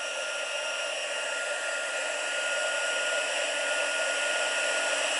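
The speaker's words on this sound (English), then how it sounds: "I'm going to heat set it." A heat tool melts embossing powder into ink on a Stampin' Up! card, giving a steady, close, loud whooshing hiss like a hair dryer that runs unbroken the whole time with no talking.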